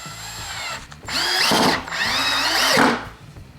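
A Ryobi P1811 18V ONE+ compact cordless drill/driver drives screws into wood, its motor whining up loud in two long bursts with brief pauses and spin-downs between, close and without talk.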